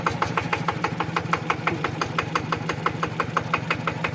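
A rebuilt Yanmar TF 115 LM diesel engine idles close by with a steady, rhythmic clatter, its low rumble pulsing evenly throughout.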